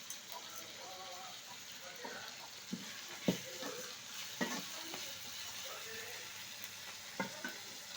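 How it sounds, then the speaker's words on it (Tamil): Onions and tomato sautéing with salt in a pan, a steady soft sizzle broken by occasional stirring scrapes and clinks, with faint talk in the background. "இது வதங்குறதுக்கு கொஞ்சம் உப்பு போட்டு வதக்கிக்கலாம்."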